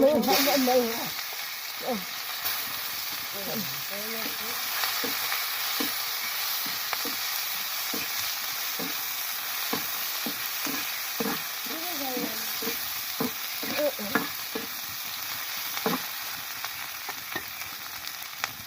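Onions fry in oil with bay leaves and cumin seeds for dal, giving a steady close sizzle broken by frequent clicking stirs, with a voice briefly audible at the start and again midway.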